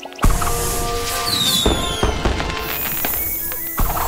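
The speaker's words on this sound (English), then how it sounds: "look at all the fireworks!" Fireworks burst repeatedly in a Thomas and Friends video game set in China, with whistling rockets rising and a series of loud crackling explosions over a steady background.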